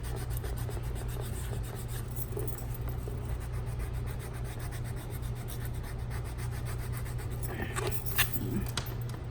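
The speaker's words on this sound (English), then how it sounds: "I'm just kind of filing down this leather just to rough it up." Steady scraping rasp of a file roughing up the leather of a Louis Vuitton Saint Cloud GM bag, a continuous close-up grinding texture over a constant low hum.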